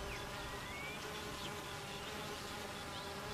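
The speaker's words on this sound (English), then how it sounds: "They even fan the hive with their wings to keep it cool on a hot summer day." Honey bees fan their hive with their wings on a hot summer day, giving a dense, continuous buzzing drone that holds steady throughout, with a few individual bees whining past close by.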